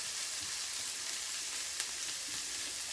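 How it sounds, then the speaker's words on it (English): Onions, ginger and garlic fry in hot oil for a Kerala-style fish curry, giving a steady close hiss and sizzle with a few faint stirring clicks and no voices. "that's frying off nicely"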